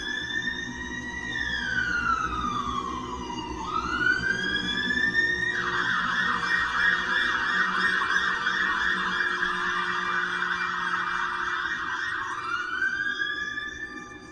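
An ambulance siren wails continuously, its tone sweeping down and up in long cycles, fairly loud and steady with no voices.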